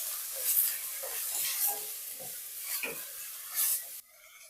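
Ginger for chutney frying in a pan, soft sizzling broken by several brief stirring scrapes and clinks, close up, before dropping away to quiet near the end.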